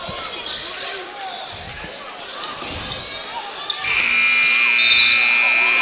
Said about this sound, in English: Shot at the buzzer.